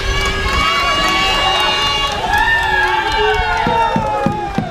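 A crowd cheers and shouts for a player at an under-21 men's canoe polo match between Denmark and Portugal at the ICF world championships, loud sustained whoops and voices filling the venue.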